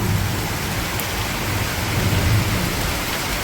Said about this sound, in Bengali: দেখো কীরকম অজর ধারার বৃষ্টি হচ্ছে